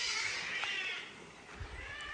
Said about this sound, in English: Did y'all hear the cat?